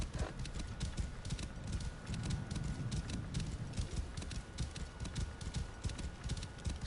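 Horse hooves clip-clop in a steady, continuous rhythm across desert sand in Assassin's Creed Origins, close and even under a low ambient bed, with no talking over it.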